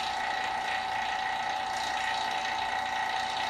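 Resin bubbling inside a vacuum chamber while the vacuum pump runs: a steady mechanical hum with a constant tonal drone, overlaid by a dense hiss and faint irregular bubbling, continuous and close, no voices.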